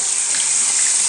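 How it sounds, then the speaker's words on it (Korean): Water runs steadily from a tap and is scooped up, a close, continuous splashing hiss with no pauses, from a review of a soap bar that also works as shampoo. "참 물 떠가지고 소리."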